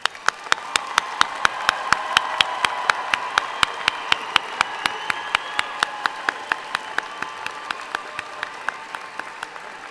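Sustained applause from a commencement ceremony audience, a broad crowd wash punctuated by a regular series of sharp, loud claps close by that repeat steadily throughout.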